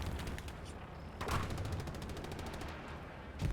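Bombs and gunfire burst through a tank battle video game match, a dense rattle of shots with a heavier blast near the middle and another at the end, loud and continuous.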